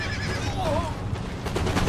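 Horses neighing during a battle at a British fort in Empire: Total War, one clear whinny over a low rumbling battle din, brief and mid-distance.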